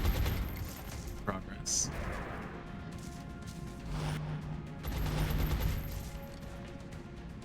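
Rifle shots and bursts of automatic fire crack in the turn-based strategy game XCOM Long War, a mix of sharp shots and muffled impacts under a steady game soundtrack, while a player talks over it.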